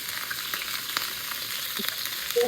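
Sliced onions frying in a pan for prawn biryani, giving a soft, even hiss at moderate distance, with a brief clink near the end and no talking.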